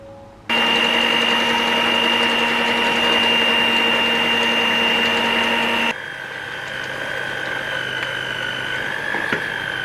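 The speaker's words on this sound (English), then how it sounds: "Now with the mixer on low, I'm just gonna add in the dry ingredients a little bit at a time." An electric mixer on low churning cookie dough as dry ingredients go in, a loud steady motor whine that shifts to a slightly lower, rougher hum partway through, with no talk.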